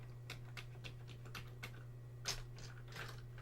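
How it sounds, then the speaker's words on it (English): Rapid typing on a Commodore 64 keyboard: a string of crisp, close key clacks at an uneven rhythm, with a steady low electrical hum beneath and no voices. "I'm typing no and it won't go."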